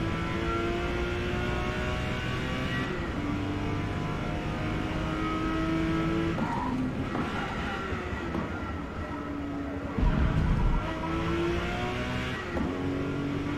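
Porsche sports car in Forza Motorsport, engine droning and revving under acceleration with rising and shifting tones, a steady loud roar with a brief thump near the end.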